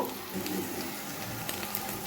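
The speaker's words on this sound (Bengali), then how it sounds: "লবণ দিয়ে ভাজা করতে থাকলাম" Pasta frying with salt in a pan, a continuous close sizzle with faint scraping of stirring, steady and fairly loud.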